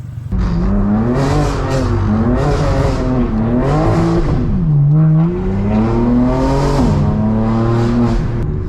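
Car pulling up and revving on a Sunday drive near a skid pad, the engine loud and close with repeated rising and falling revs and a deeper dip midway, sustained without talk.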